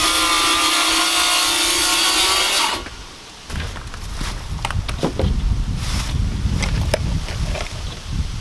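Outdoors in cold, windy weather, a tool cuts through a last piece of material, producing a loud, steady grinding whine that drops away and is followed by rough rubbing and scraping noises close by.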